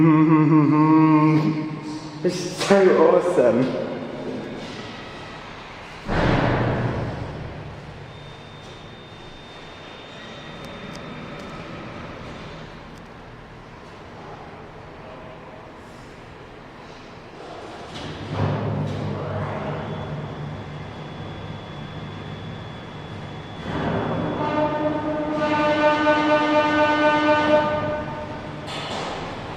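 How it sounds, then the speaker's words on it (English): An out-of-order lift at Nottingham Broadmarsh levels with a motor impact drive, producing a long humming whine that rises and falls through several surges, with a thin steady tone and louder tonal swells near the end. A voice briefly comments. "One of the most awesome levelling sounds of any lift ever"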